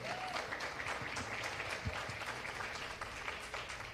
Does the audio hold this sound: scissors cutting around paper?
no